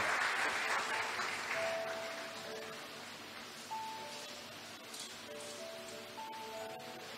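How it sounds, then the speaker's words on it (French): A church congregation claps and cheers in praise during a worship service, a steady wash of applause that is loudest at the start and slowly thins out, with faint tonal music threads running underneath. "Tu peux acclamer le Seigneur"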